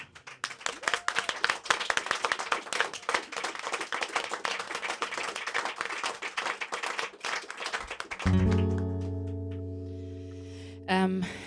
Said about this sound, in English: they definitely deserve another round of applause